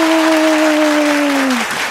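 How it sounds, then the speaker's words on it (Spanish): Steady, dense clapping from a group of children fills the whole stretch, with a sustained whistle-like tone running through most of it. "¡Más fuerte el aplauso, niños y niñas desde sus casas!"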